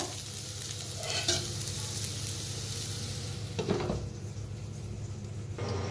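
Dal cooks in a pan while being stirred, a continuous bubbling hiss with a low hum underneath and occasional louder scraping stirs, close by with no voices.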